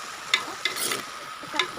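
Food frying in a pan for a village-style home recipe, a soft continuous sizzle with a few sharp stirring clinks of a utensil against the pan.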